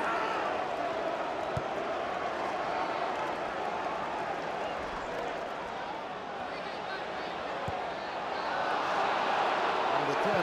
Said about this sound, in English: And the crowd want them to go forward,